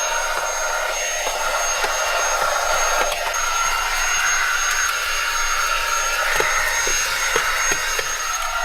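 AutoBot cordless mini vacuum cleaning the cup holders of a car interior, a steady high whirring motor hum with brief scraping bumps as the nozzle moves.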